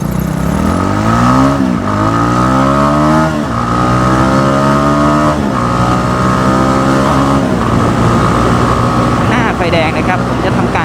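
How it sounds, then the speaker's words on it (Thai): Razer220 motorcycle ridden at night while shifting gears, engine revving up in several rising sweeps between shifts, loud and close, with someone talking over it. "อันนี้เหยียบลงเกียร์หนึ่งแล้วไป"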